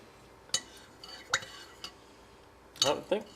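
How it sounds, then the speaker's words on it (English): Yarrow salve ointment is stirred in a pot to remelt it. A utensil scrapes and clinks against the pot in a few sharp, separate knocks, with a quick double clatter near the end, over a quiet background. "I'll remelt this just by stirring it up in there."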